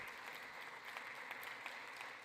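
Scattered applause from Democrats in a congressional chamber, soft and far off, a continuous patter with a few slightly sharper hand claps poking through.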